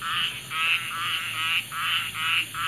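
Many frogs croak at night where hooked frog lines are being checked, a loud, close chorus of raspy croaks in rhythmic bursts about every half second, with a constant insect-like hum behind and no voices.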